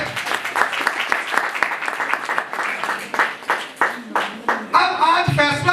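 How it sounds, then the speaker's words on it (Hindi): A church congregation applauds loudly with brisk, continuous clapping for several seconds; near the end the clapping thins and a voice starts speaking. "अपने लिए तालियां बजाएं जरा जोर से।"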